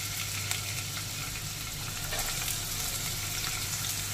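Chopped ginger and garlic fry in hot refined oil with a continuous, even sizzling hiss, close and moderately loud, with no talking.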